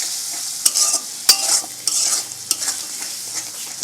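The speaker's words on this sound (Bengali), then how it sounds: "একটা শব্দ পাচ্ছ, শব্দটা আমাদের জল গরম হচ্ছে।" Spices frying in a pan on a home stove while water heats, giving a steady sizzle with sharp clicks and scrapes from stirring, close by and loud, with no talk.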